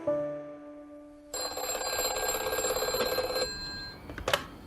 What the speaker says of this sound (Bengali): এই সময় একদিন মেহরার কাছ থেকে একটা ফোন এলো।